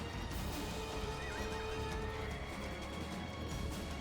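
Horse skirmishers in the video game Age of Empires II, with horses whinnying and hooves clip-clopping amid dense, loud battle noise that continues throughout, no talking.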